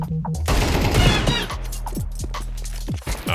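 Rapid automatic gunfire rattles loudly in a shooting video game, then breaks into scattered single shots.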